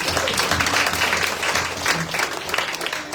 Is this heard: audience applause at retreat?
yes